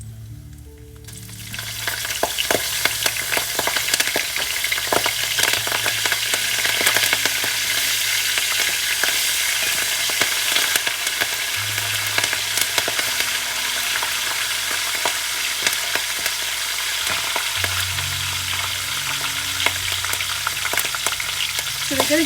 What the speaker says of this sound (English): dried chili, a bit of asafoetida, and then of course my curry leaf, which is going to splatter